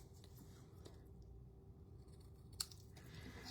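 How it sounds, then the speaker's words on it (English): Scissors make a single crisp snip through card paper during floral card making, set against a quiet room hum. "I'm gonna clip a little bit off with my scissors"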